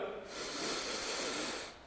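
One long, deep breath during a Pilates exercise, heard as a steady, close, breathy rush of air that swells and then fades over about a second and a half.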